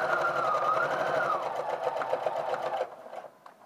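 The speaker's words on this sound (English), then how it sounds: "So let's just take that over to the machine." A sewing machine stitches a garment vent, a steady close whirring run that slows briefly and then stops near the end.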